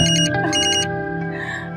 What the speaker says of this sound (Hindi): कब से फोन बज रहा है तेरा? उठा ले।